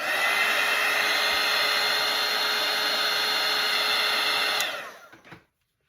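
A hair dryer blowing on a watercolour painting of Santa's face, a loud steady whirring roar held for over four seconds that then winds down and cuts off with a couple of small clicks.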